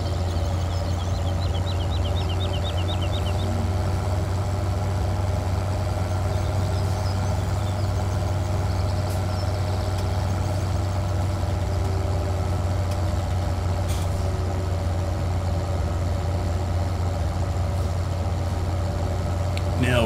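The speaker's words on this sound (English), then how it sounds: "We have a tractor that is doing the leveling." A tractor engine in a farming simulator, running a steady, droning low rumble with a constant idle-like hum throughout, no speech.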